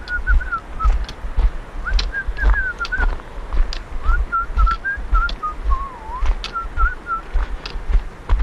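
A person whistles a wavering tune in short melodic phrases, close and clear, over a low wind-like rumble outdoors.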